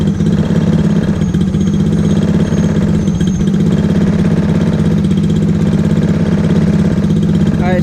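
X15 super pocket bike small engine idling with the choke pushed down, a loud, steady, close-up putter with a rapid even firing rhythm and no speech.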